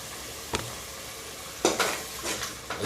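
Green chili paste fries in a pan with a faint sizzle, interrupted by a few short scraping strokes of stirring, one louder scrape near the middle and two lighter ones after.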